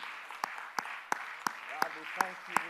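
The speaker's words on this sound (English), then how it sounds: "I wonder if you clap your hands with me today." A church congregation claps hands in a steady, evenly spaced rhythm, seven sharp claps over a soft background murmur of voices.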